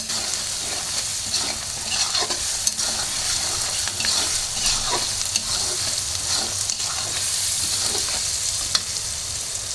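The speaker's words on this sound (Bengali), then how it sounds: "আলুটা একদম হয়ে গেছে, ভাজা হয়ে গেছে।" Potatoes frying with spices in a pan crackle and sizzle steadily up close, with intermittent stirring scrapes and clinks and no talking.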